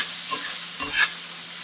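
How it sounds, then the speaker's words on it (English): Cooked onions are stirred into frying sausage in a pan: a soft steady sizzle under two brief spatula scrapes against the pan, close and moderately quiet, with no talking. "now that they're cooked a little bit, we're going to kind of mix them in with the sausage."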